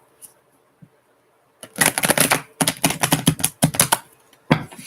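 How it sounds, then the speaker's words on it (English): A deck of cards is shuffled: after a near-silent start, dense crisp riffling bursts rattle in several close, loud runs, with a final short flurry at the end. "One more shuffle."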